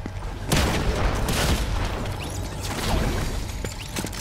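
Fortnite gunfire crackles in dense repeated bursts over a loud, busy game soundscape, with sharp shots recurring through the whole stretch at close range.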